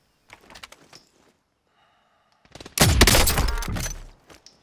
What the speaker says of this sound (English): Someone was shooting at him from over here.